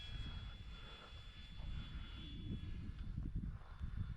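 The DRACO radio-controlled model plane flies past with a faint, distant engine drone that swells gently as it passes, with wind noise underneath.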